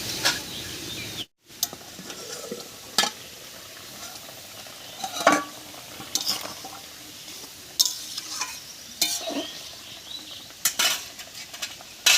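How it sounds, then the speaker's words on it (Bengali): A pot of village-style fish curry made with tender pumpkin stems and local potatoes is uncovered and taken off the heat. Scattered metallic clinks and light scraping of the lid and utensil sound against a soft, faint cooking hiss. "এবার ঢাকা খুলে নামিয়ে নিচ্ছি"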